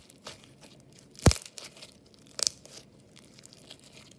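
Crunchy slime is squeezed and poked close up, giving two sharp crackling crunches, the first louder, against quiet soft crinkling, with no talk.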